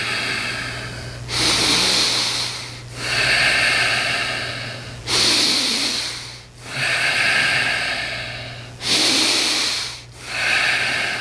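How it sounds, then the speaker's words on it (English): A group breathes vigorously in a guided breathing session, with loud, rushing inhales and exhales alternating in a steady rhythm of about one breath every one and a half to two seconds, over a low steady hum and with no talking. "We're going to breathe a little more vigorously. Inhale, exhale."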